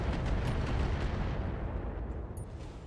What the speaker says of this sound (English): Firing everything I've got.